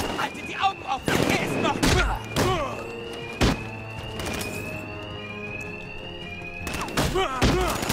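Gunfire in the video game Batman: Arkham Knight: sharp, loud shot impacts and thuds come in irregular bursts over electronic tones and sustained game effects, while a player talks over the action.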